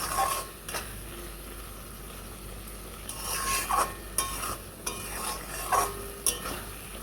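Water lily stems cooking with mustard paste in a pan, a low simmering sizzle under bursts of stirring, with a spatula scraping and knocking against the pan several times.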